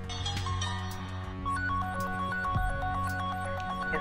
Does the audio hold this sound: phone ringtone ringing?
yes